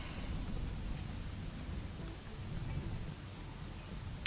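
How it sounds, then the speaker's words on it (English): Steady rain in RimWorld falls as a soft, even wash of hiss with a low rumbling undertone, continuous and moderately quiet, with no speech over it. "I can't believe how long it took to rain."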